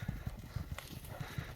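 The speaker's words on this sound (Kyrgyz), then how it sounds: "Ат улугуп калды ойноп." A horse runs playfully with its tail raised, its hooves pounding in a quick, steady galloping rhythm that is close and clear, with no talking.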